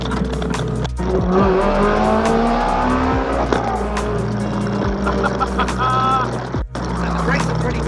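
Ferrari 360 Challenge Stradale with carbon brakes driving and slowing: a loud, close engine drone with rising and falling pitch sweeps as it revs and brakes, and voices talking over it from inside the car.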